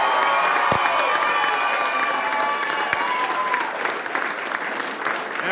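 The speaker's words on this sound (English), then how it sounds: "keep the applause coming" Crowd applauding and cheering at the Victorian Premier's election victory speech, sustained loud clapping with shouts and whoops across the whole stretch, briefly overlapping a voice at the start.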